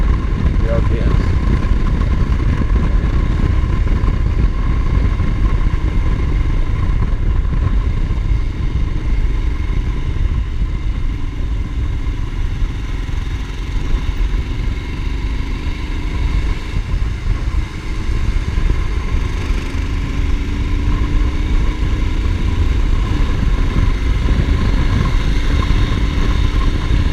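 A Royal Enfield Himalayan motorcycle engine idling close by, a steady low rumble with rpm sagging and shifting across nearly half a minute, with a person talking over it at times.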